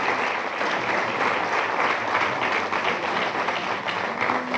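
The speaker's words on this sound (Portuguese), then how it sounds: "Uma salva de palmas, por favor." An audience at a literary talk event in Porto breaks into steady, full applause, many hands clapping densely and evenly throughout, fairly close and loud.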